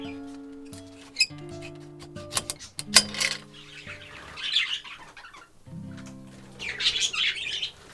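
Pet birds in an aviary chirp and tweet close by in scattered bursts of whistled notes, with brief flutters of wings and occasional squawks between quieter pauses, and no one speaking.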